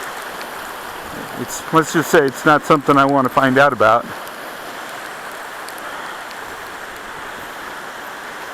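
Fast-moving floodwater rushes steadily through a washout in Peeples Valley, Arizona, a continuous broadband roar heard throughout, with someone talking briefly over it near the middle.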